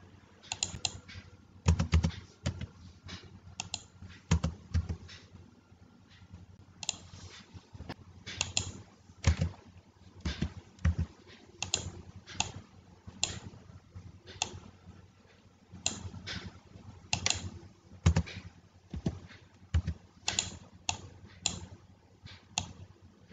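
Data typed on a computer keyboard at a steady working pace, with irregular bursts of crisp key clicks and short pauses between them, close and fairly quiet, no voices.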